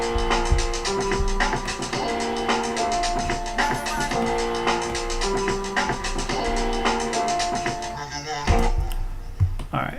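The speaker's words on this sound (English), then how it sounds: "Then I chopped up some old school drums" Chopped-up old school drum samples with punchy kicks in a hip-hop remix beat, repeating sequenced hits with some pitched-down, layered over sustained melodic sample tones, loud and dense throughout.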